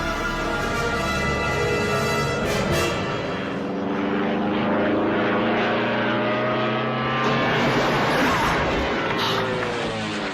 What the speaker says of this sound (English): So they land the plane in the water